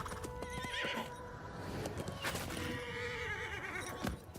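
A horse in the video game Where Winds Meet whinnies and snorts while its hooves clip-clop, close and clear against a busy game soundscape.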